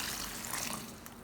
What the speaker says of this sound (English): Pour the sesame seeds into a large bowl and add plenty of water.